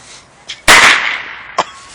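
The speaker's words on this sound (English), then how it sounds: "you got all these fireworks?" New Year's firecrackers: one loud, close blast with a long crackling decay, framed by two smaller sharp pops before and after.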